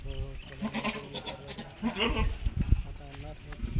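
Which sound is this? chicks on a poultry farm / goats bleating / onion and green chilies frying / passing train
goats bleating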